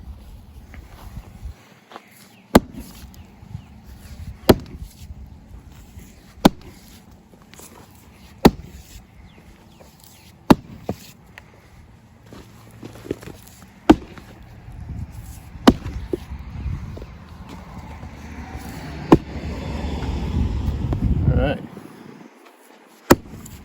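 Firewood rounds being split by hand for a wood stove, with sharp, loud single chops landing every couple of seconds and softer shuffling and footsteps between strikes, and a rising rumble near the end.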